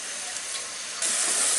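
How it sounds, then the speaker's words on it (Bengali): Spice masala with salt frying in a pan gives off a steady, soft steamy hiss that suddenly grows louder and brighter partway through, with no one talking. "এখন এর মধ্যে দিয়ে দিব আমি একটু লবণ স্বাদ মতো দিয়ে মশলাটাকে একটু আমি কষায় নিব"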